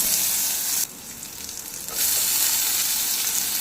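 Onions go into hot oil with mustard seeds, cumin and dried red chili for garlic rice. A loud, close sizzle dips for about a second and then surges back up, steady and crackling.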